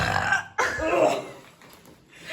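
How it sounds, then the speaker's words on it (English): A loud, drawn-out burp rumbles close up, followed by a softer throaty tail and a short second belch. "You burp again."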